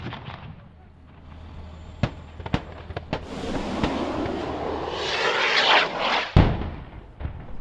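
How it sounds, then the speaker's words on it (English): Rocket strike on ISIS fighters' positions near a house: sharp blasts and booms crack out at intervals over a rumbling, roaring wash, with one heavy impact near the end. "A rocket strike was then called in to take out what was believed to be the ISIS fighters' positions."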